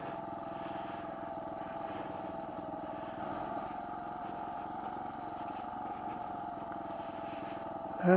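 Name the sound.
motorcycle riding slowly in first gear on muddy backroad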